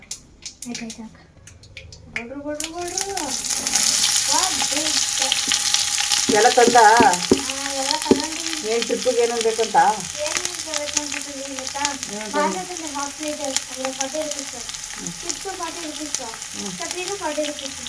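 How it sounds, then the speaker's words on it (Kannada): Steady hissing sizzle of tempering spices frying in hot oil, loud and close, with someone talking over it throughout. "ಈಗ ನಾನು ಒಗ್ಗರಣೆ ಆಗ್ತಾ ಇದ್ದೀನಿ"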